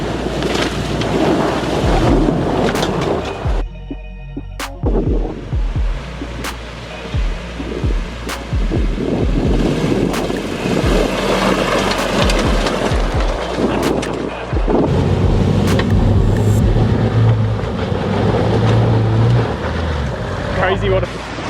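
A Land Rover Discovery 4WD ploughs through a long, deep stream crossing on the Waimak River, giving continuous loud rushing and splashing water with engine rumble, bursts of heavy spray and thumps, and voices talking over it.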